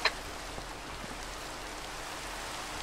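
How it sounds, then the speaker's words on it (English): Nighttime rain in Minecraft makes a steady, even hiss of falling drops throughout, moderately loud with no talking. "Yeah, it's raining where I am as well, but it's very much nighttime raining."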